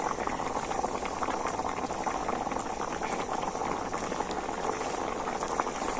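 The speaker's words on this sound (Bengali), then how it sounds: "উনুনের জাল একদম হালকা রেখে বড়াগুলো ঝোলের মধ্যে দিয়ে দিতে হবে" Chana dal fritters simmer in gravy over a low flame, making a dense, steady bubbling and popping that stays even throughout, close and without speech.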